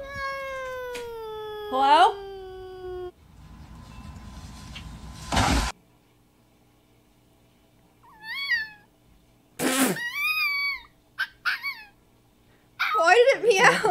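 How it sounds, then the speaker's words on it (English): A cat meows several times with rising and falling cries, separated by quiet gaps, while a person speaks briefly. "Why did it meow?"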